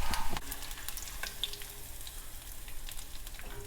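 Crushed garlic and curry leaves fry on a low flame, a steady close sizzle with occasional crackles and pops, no talking, for peanut masala.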